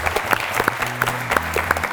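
An audience applauds at a student book-club quiz show, a brief burst of dense, steady clapping from a crowd, close and fairly loud, with a low tonal background hum running underneath.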